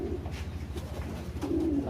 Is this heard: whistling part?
no